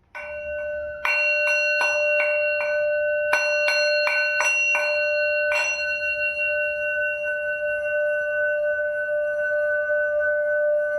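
A devotional bell is struck in a quick series of about a dozen bright clangs, then left to hum and fade in a long, clear, sustained ring with no talk.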